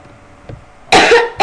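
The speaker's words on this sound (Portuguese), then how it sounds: "Posso tossir? Eu já tossi." A single hard cough bursts out close and loud after a brief faint throat noise, with a second cough just starting at the end.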